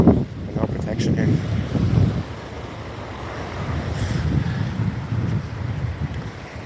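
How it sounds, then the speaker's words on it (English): Gusty wind buffets a microphone outdoors on a street in Dublin city centre, a low rumbling roar that swells and eases in bursts, with a voice talking faintly underneath. "Sorry, it's windy here."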